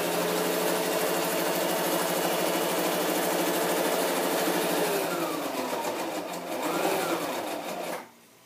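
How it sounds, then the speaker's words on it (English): A Brother XL2600i sewing machine runs in a fast, steady mechanical whir close by, stitching continuously before slowing briefly and stopping abruptly near the end, with no talking. "And I'm just using a Brother sewing machine."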